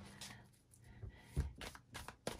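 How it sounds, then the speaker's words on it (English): Soft riffling and shuffling of tarot cards, uneven and close, with a few light taps and flutters. "We're going to continue shuffling."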